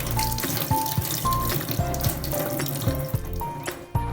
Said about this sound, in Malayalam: അപ്പോൾ ഞാൻ പെട്ടെന്ന് തന്നെ പോയി വെള്ളം നിറയ്ക്കുകയാണ്.